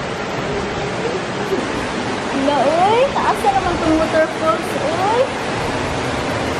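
Steady broadband roar of the Dodiongan waterfall in the Philippines, continuous and fairly loud, with voices of people talking and calling over it in the middle of the stretch.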